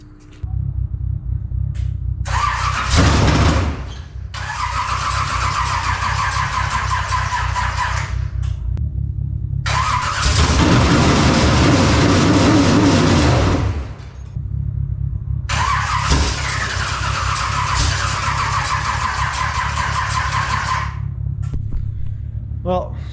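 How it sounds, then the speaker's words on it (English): A car with a mechanical fuel pump that is not getting fuel cranks over in three long, loud bursts separated by short pauses, the starter grinding steadily without the engine catching. "It's a mechanical fuel pump, obviously, so it's going to take some cranking to get fuel pressure"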